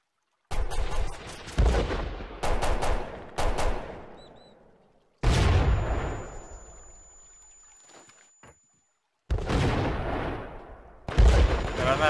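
Grenade explosions and gunfire in a video game battle at a dragon tower: several heavy, booming blasts with long rumbling tails, separated by short silent gaps and sharper bursts near the end.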